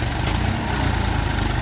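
A Massey Ferguson 1035 tractor engine runs with a steady, loud, close rumble and no change in pace across the short stretch.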